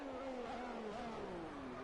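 A race car in a Canada round accelerating flat out from a hairpin, a steady rising engine whine held loud and fairly close for under two seconds, with no talk.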